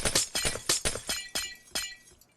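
Glass blocks breaking in Minecraft make a series of crisp, close shattering crashes, about seven in a fairly even rhythm and each with a short tinkling tail. The last hits are softer.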